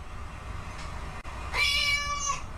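A cat meows once, a fairly clear drawn-out cry that is partly electronic or played back, over a steady low background hum.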